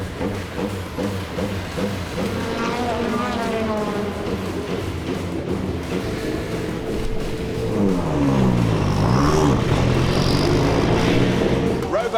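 BTCC touring race car on a drying track, engine note rising and falling through gear changes and a louder swelling pass as it crosses the line, heard under continuous commentary.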